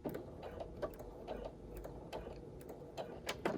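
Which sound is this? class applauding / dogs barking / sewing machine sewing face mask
sewing machine sewing face mask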